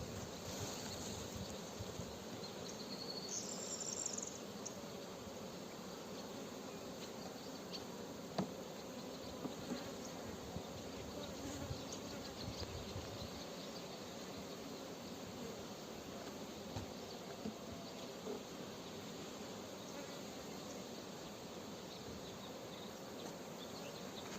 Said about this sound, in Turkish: Şimdi arılar tekrar çıkacaklar, başladılar çıkmaya